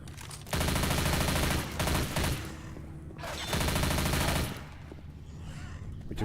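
Automatic gunfire in a video game rattles in long rapid bursts, loud and close, with short gaps between the volleys.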